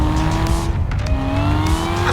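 Corvette C8 ZR1 engine note with rising and falling tonal whine, a loud continuous drone that steadily climbs in pitch as the car pulls, with no talking.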